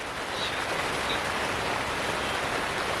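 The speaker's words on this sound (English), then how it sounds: "It is crazy raining right now." Heavy rain pours steadily outside a portable glamping tent, a dense, loud, unbroken hiss of water drumming on the fabric with no voices.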